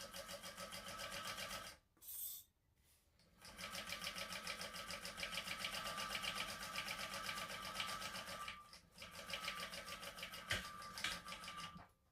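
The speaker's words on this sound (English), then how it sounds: "then we will stitch across the seam allowance specified in the pattern" A sewing machine stitches across the seam allowance of a crossbody purse in fast, even rapid bursts, pausing briefly near the start and again later, close and steady.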